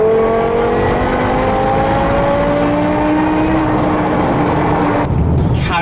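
A BMW M6 engine droning steadily and loudly as the car drives, with a slowly rising tone that continues throughout and a brief shift near the end.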